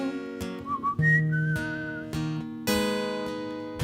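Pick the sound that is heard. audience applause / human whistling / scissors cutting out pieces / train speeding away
human whistling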